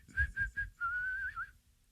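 Someone whistles a short tune: three quick clipped notes followed by one longer sustained note that bends at the end, clear and close, with a low rumble of background noise beneath and no speech.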